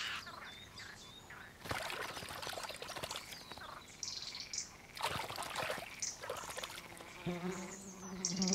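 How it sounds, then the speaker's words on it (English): Little forest birds bathe in a Mediterranean woodland of centenary oaks, making splashy bursts of water and wing flutter in repeated loud spells, with bird calls and insect buzz in the background. "The noise the little forest birds make as they bathe"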